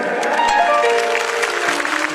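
An audience at a temple festival for Siddhbali Baba claps briefly, a dense, even patter of many hands.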